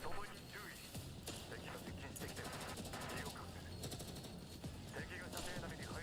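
Vicious bursts of automatic gunfire rattle continuously through a combat scene in the video game Girls' Frontline 2: Exilium, dense and overlapping, with repeated rapid volleys and faint voices underneath.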